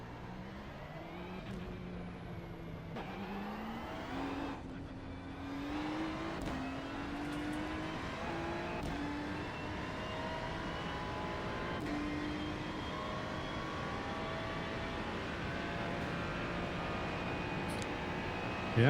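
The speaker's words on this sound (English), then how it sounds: "Let's see what the Ferrari is capable of." A Ferrari GT3 race car in a racing video game revs and accelerates through repeated upshifts, engine pitch climbing and dropping in steady cycles, loud and continuous with no talk.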